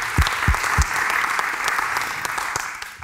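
Audience applause fills the room at a public debate on tuna, steady clapping throughout with a few sharp claps up front, loud and continuous with no talking.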